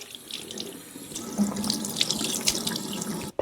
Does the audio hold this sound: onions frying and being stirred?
no